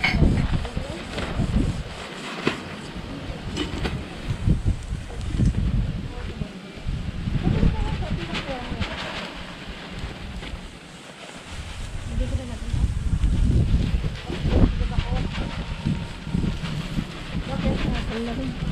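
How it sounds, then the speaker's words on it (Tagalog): Gusty wind buffets the microphone outdoors during a glutinous rice harvest in the rural Philippines in December, rising and falling in long swells while people talk nearby. "Buti mahangin."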